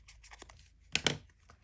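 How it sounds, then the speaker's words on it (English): Paper being torn by hand for a junk journal: a soft, close series of short ripping and crinkling sounds, with one slightly louder tear in the middle, quiet and without speech. "I'm going to tear it"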